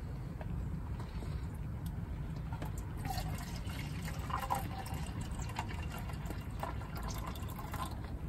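Hot water poured slowly from a pot into a metal canteen cup beside a camp stove, a soft continuous trickle and fill over steady low background rumble, with faint drips near the end.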